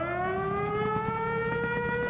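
Air raid sirens in the video game Conker's Bad Fur Day wail loudly in layered, slowly falling tones that sustain throughout, heard alone with no voices.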